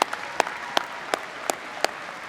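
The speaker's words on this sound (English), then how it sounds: "Let's give Stephanie and Sam a big round of applause here." Sparse, evenly spaced claps at a graduate commencement ceremony, about six sharp hand claps roughly a third of a second apart, moderately quiet over a faint hall background.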